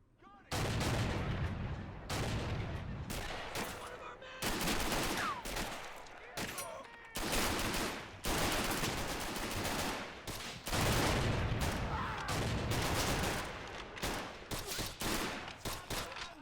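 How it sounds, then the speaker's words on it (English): M1 rifle fire in a World War II video game battle at a Rhine River amphibious assault, dense loud bursts of shots and explosions in rapid succession throughout, with occasional voices underneath. "get some of that M1 fire on him"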